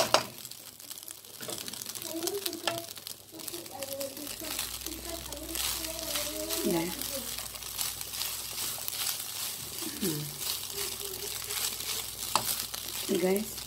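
Egg frying in a pan for fried rice, stirred with a utensil: a steady sizzle with scraping and clinking under someone talking throughout.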